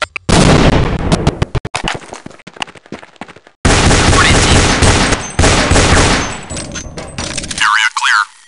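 Grenade blasts and rapid gunfire ring out in a Counter-Strike 1.6 match on the aim_2fort map, loud bursts of shots and booms crowding together, broken by a brief silence before another dense barrage.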